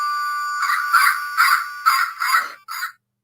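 A Lego brick with a button rings a repeated two-tone electronic doorbell chime, bright and tinny, heard up close, ending with a final short ding.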